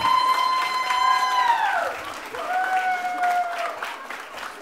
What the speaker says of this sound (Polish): wielkie brawa dla państwa młodych!